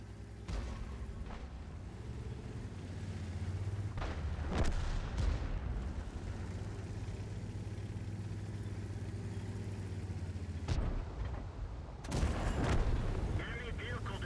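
Artillery fire in the video game Onslaught booms repeatedly over a steady tank engine rumble, with several loud blasts breaking through the continuous drone.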